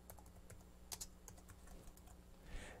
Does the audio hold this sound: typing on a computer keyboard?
yes